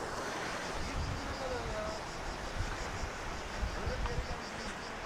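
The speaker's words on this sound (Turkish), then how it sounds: "Çok güzel bir dere akıyor altından." A stream flowing under a bridge rushes continuously under steady wind noise, with a faint voice briefly audible in the background.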